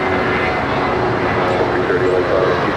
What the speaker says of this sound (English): And this is United 1977 off to San Francisco SFO.